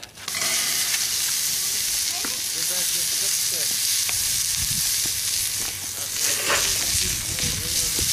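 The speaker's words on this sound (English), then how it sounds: "now we're going to brown the ground beef" Ground beef browning in a preheated cast iron Dutch oven, a loud, steady sizzle and hiss of frying meat with occasional stirring scrapes, close and continuous throughout.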